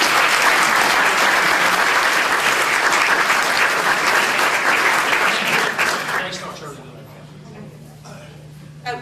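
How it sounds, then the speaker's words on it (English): Loud, sustained applause from an audience at a legislative luncheon, dense clapping filling the hall for about six seconds before fading quickly into quiet room tone. "Give them a big round of applause."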